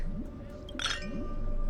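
A single bright clink of glasses touching in a toast within a video game, brief and clear over a low background hum.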